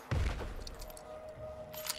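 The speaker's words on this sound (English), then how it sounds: "This freaking rifle is no joke" A rifle shot in the survival game Nightingale, a heavy booming report at the start, then a fading tail with quieter thumps and clatter.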